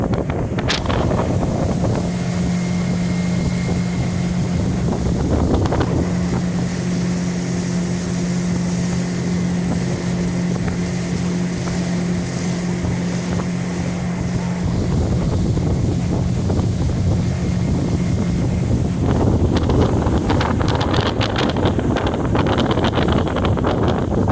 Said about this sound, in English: show you the motor running under power here